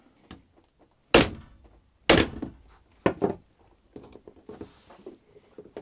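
Hammer blows crimping a cable lug while wiring an electric motor on a sailboat: three sharp, loud strikes about a second apart, followed by smaller softer taps and handling knocks.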